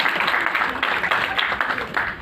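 An audience claps steadily at a book event, a dense continuous patter of many hands at moderate distance with no clear pauses.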